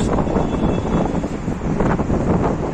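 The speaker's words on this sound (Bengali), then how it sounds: "এখন প্রচুর বাতাস" Strong wind buffets the microphone at an outdoor viewpoint at the Museum of the Future in Dubai, a loud, continuous rumbling roar without pause and with no voices.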